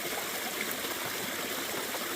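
Creek water flows in a steady, even rush, a close continuous trickling hiss with no other sounds.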